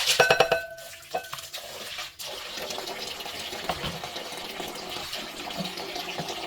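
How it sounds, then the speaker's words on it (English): Filtered water pours steadily over soya beans in a bowl, a close, continuous splashing gush that opens with a few brighter clinks and keeps running throughout. "I use the filtered water to soak this beans."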